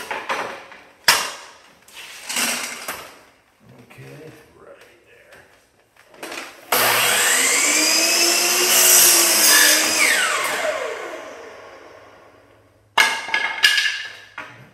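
A power tool whirs loudly for about six seconds, a steady high-pitched motor drone with rising and falling pitch, framed by knocks and bumps of handling and someone talking before and after.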